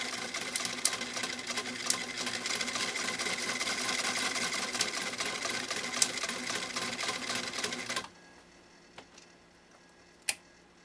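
A 1923 Singer 66-1 sewing machine stitches in a fast, even mechanical clatter for about eight seconds, then stops abruptly, leaving a quiet room with a couple of faint clicks.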